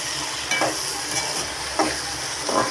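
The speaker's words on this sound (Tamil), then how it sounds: "இது ஒரு 5 நிமிஷம் வதங்கட்டும் நல்லா." Vegetables, broad beans or okra, sautéing in a pan with a steady close sizzle, punctuated by three soft scraping stirs at regular intervals; no voices.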